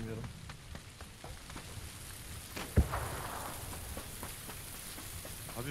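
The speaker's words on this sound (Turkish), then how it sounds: "Abi hiçbir şey duymuyorum yağmurdan hiç." Steady hiss of heavy rain in PUBG drowns the squad's gameplay, a dense sizzling wash with faint scattered taps and one sharp thump partway through.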